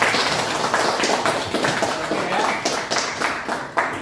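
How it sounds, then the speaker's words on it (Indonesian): Classroom of students clapping their hands together, a dense, uneven patter of claps filling the room, fairly loud and close with some sharper individual claps standing out. "Oke, tepuk tangan dulu teman-teman"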